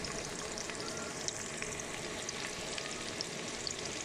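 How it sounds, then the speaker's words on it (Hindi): Onions frying in a pan until brown for a white chickpea curry give a steady, close hiss of sizzling oil with faint crackles throughout, with no voices over it. "प्याज को आपने अच्छी तरह ब्राउन करना है।"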